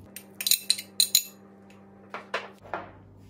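A serving spoon taps and clinks several times against a plate while corn is added to a black-eyed pea salad with capers. A quick run of bright knocks comes first, then three more spaced clinks over a quiet hum.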